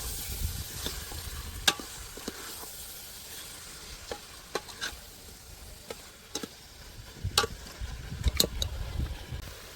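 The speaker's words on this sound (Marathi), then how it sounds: "आणि आलं लसूण पेस्ट घालायचं आणि हे सगळं मिक्स करून शिजवून घ्यायचं." Ginger garlic paste mixed and cooked in a pan for raw jackfruit biryani, a steady sizzle with repeated scraping stirs and sharp clicks of a spoon against the pan, close and moderately loud.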